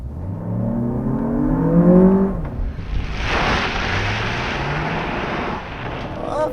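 A 2023 Lexus RX 500h hybrid turbo accelerates on the road, its engine note rising steadily in pitch before giving way to a loud, broad rush of engine and road noise heard from inside the cabin.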